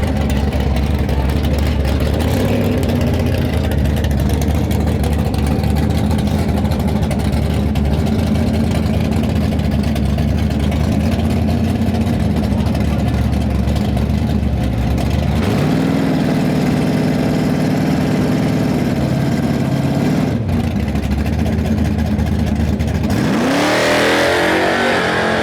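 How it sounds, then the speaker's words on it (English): A Buick drag car at a dragway revs loudly and steadily, its deep engine note holding near and strong with a brief dip and a rising surge toward the end. "this Buick sounds pretty badass"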